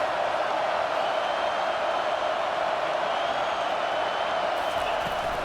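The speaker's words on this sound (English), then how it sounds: "It is getting loud as this crowd tries to help its defense." A dense, steady roar of a large football stadium crowd at Texas A&M fills the air, constant and loud without breaks.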